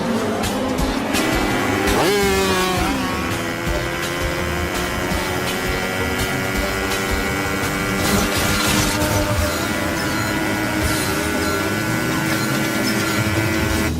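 A motorcycle engine roars loud and close as the bike is lifted, with rising and falling revs and a sustained droning tone throughout.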